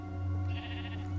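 A single sheep bleats in Minecraft, in a modded Hermitcraft survival world, with one drawn-out bleat over a steady game background drone.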